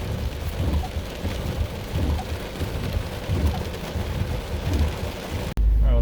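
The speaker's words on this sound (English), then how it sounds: "that was a nice little storm for today" Heavy rain pours in a steady, dense roar during a weak supercell thunderstorm with strong wind, with low rumbling thunder mixed in throughout, cutting off abruptly near the end.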